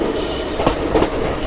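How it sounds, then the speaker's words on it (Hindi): The Shramjeevi Express rolls through a loop line near Ara in Bihar, a loud close rumble of wheels on rails with a couple of rhythmic clacks. "अब यहाँ से दोस्तों हमारी लाइन लूप पे गई ट्रेन आरा के लिए।"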